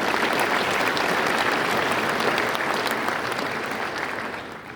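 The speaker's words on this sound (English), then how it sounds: "Please give yourselves a round of applause." Large-audience applause at the opening session of the Sea Air Space 2024 conference, a loud, dense, continuous roar of clapping that holds steady and then tapers off toward the end.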